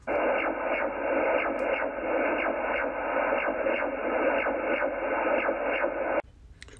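HF radar signal from a coastal antenna at Jennette's Pier in the Outer Banks, received on an HF transceiver or SDR receiver: a steady, band-limited stream of rhythmic sweeping chirps, about two per second, which stops abruptly near the end.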